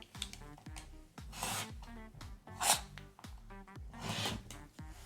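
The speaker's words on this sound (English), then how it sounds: "And I'm going to trim this side first." A cutter trimming the edge of a fabric quilt square for a bear claw quilt, with repeated close rasping strokes of varying length over a steady low hum, two louder swishes standing out.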